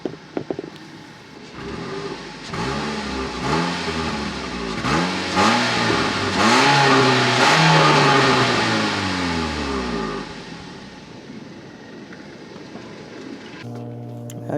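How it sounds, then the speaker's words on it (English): A 2011 Nissan Cube with stock exhaust revs up repeatedly, the engine note climbing and falling through several throttle blips before settling back to idle, heard close and loud with no talk. "try to get a little sound clip for it from the exhaust, even if it's stock"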